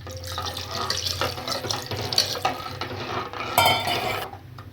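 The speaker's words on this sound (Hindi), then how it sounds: "देखिए थोड़ा पानी और डाल रही हूँ।" Water being poured into a thin Kerala-style rasam simmering in a pot on a home kitchen stove, a continuous splashing, trickling pour with small clinks, close and alone without talk.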